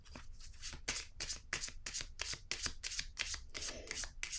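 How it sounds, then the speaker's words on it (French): Tarot cards are shuffled by hand in a rapid series of close, crisp riffling bursts, roughly a dozen quick flutters in a steady rhythm with no talk. "Je vais piger une autre carte ici."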